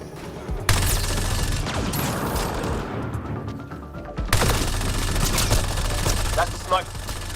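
Gunfire in the Mass Effect Andromeda sci-fi shooter, sharp loud shots breaking out in two bursts with rattling follow-up fire and crackling impacts, while voices talk underneath.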